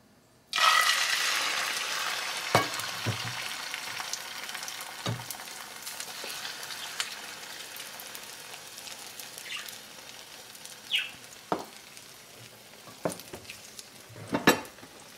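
Spanish tortilla frying in a pan, starting with a sudden loud sizzle that settles into a quieter steady frying hiss, punctuated by occasional utensil clicks and pan knocks.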